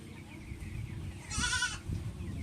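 A goat bleats once, loud and close, over low background rumble and faint rustling.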